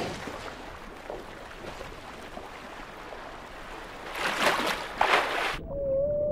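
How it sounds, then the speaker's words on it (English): Underwater whale calls in the South Pacific Ocean, a steady wash of murky ocean noise with two louder bursts of vocal sound near the end, followed by a thin sustained tone as the background drops away. "Sometimes, whales use their own sonar, making sounds which can travel many miles, bouncing back from underwater mountains."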